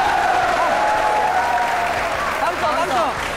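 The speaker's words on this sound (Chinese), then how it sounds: "给他掌声鼓励一下" Audience applause for a student contestant on a Taiwanese variety show, a steady broadband clatter of clapping running the whole time while a voice speaks over it.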